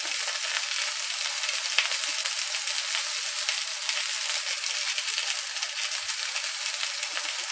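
Chicken burger patties frying in a little oil in a too-small pan, a steady close hiss and crackle of sizzling that runs unbroken throughout, with no talking.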